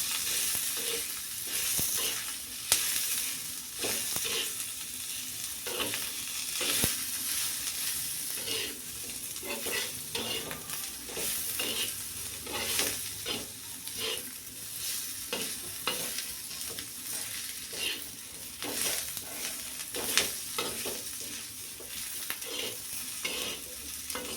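Ginger and garlic roasting in oil in a pan, with a steady close sizzle and repeated scraping stirs throughout.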